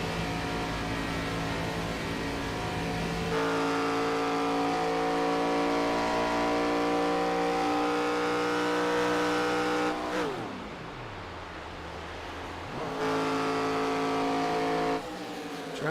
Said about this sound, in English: we hear Cully shutting that car off as well